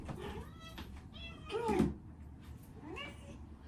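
A pet cat meows several times, with one loud, drawn-out caterwaul in the middle and softer meows around it, close by indoors while a person briefly speaks.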